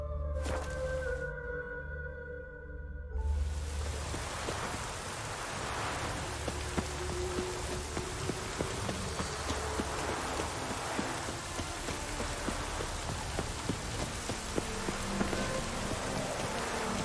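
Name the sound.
rain in The Witcher 3 video game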